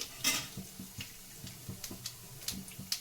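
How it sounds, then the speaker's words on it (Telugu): Tempering spices go into hot oil in a pan for coconut-coriander chutney, giving faint, scattered crackles, pops and light metallic ticks in an irregular patter. "పోపు దినుసులు వేసుకున్నానండి"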